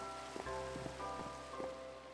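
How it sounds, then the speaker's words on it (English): Steady rain falls in a video game, a soft continuous patter with light drops tapping through it, heard alone under a faint tonal game backdrop. "since it's raining, I could probably go sleep"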